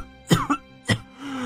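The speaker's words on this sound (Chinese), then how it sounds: "捂住胸口剧烈地咳嗽起来" A man coughs in two sharp, harsh bursts, each a rough throat-clearing hack, close and fairly loud, followed by a strained exhale.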